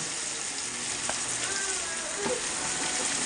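Ingredients for a Kerala-style chicken curry sauté in a pan, making a steady, dense sizzle throughout with a couple of faint stirring knocks and no talking.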